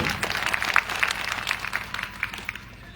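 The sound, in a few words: applause for the speaker's remarks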